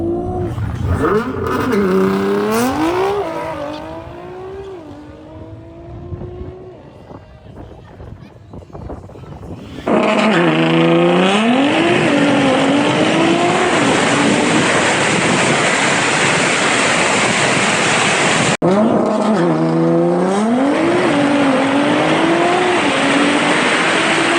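A highly tuned Nissan GT-R drag racing a Tesla Plaid: loud engine revs climb and drop through gear changes, then a sustained full-throttle roar under heavy wind buffeting, continuous and close.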